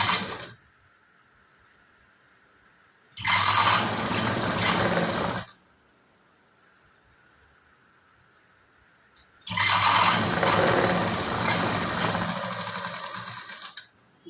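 A sewing machine stitches tucks on a blouse in two sustained runs of rapid, loud mechanical whirring, separated by a quiet pause with faint background hum.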